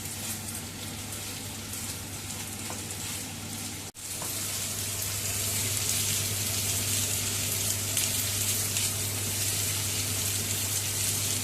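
Llacets fry steadily in a pan, a continuous dense sizzle that holds its level throughout, with a brief dip near the four-second mark and no talking.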